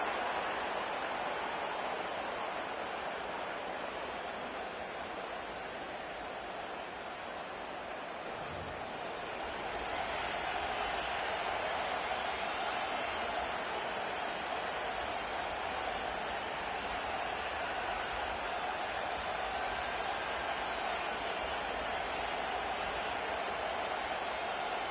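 A stadium crowd at a Packers vs Bears football game roars after a fourth-quarter conversion ties the score. The dense, sustained wash of crowd noise swells slightly about halfway through and then holds steady at full volume.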